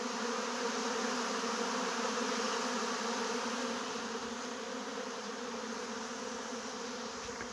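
Dense, steady buzzing of many honeybees swarming close by, a continuous droning hum that holds for several seconds without pause.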